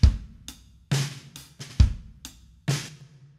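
Pop drum kit playing a short groove, with punchy kicks, snare hits and cymbal wash in an uneven pattern of close, loud strikes.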